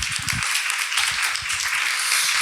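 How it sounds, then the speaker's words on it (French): Steady applause from a conference audience at a talk on women's rights and philanthropy, with a few low voices murmuring underneath at the start and midway. "Madame, sous vos applaudissements."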